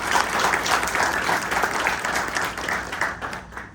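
An audience applauds steadily at a public talk, a dense wash of clapping from many hands that holds fairly loud before easing off toward the end.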